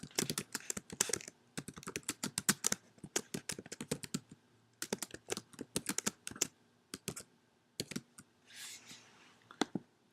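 Rapid typing on a computer keyboard, close and crisp, in dense bursts of clicking keystrokes separated by short pauses, with no voices.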